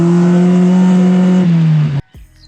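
A Datsun 120Y fitted with a new HKS exhaust holds a loud, steady high rev that sags slightly, then cuts off sharply, leaving a short burble and quiet idle.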